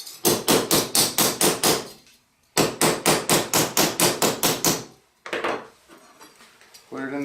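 Silver being hammered on an anvil while rolling it out for jewelry: two fast, steady runs of about eight ringing metallic blows each, then a few more strikes, all loud and close with no voices.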